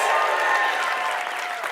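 A church congregation cheering and applauding after singing happy birthday, a short burst of dense clapping and voices that fades slightly toward the end.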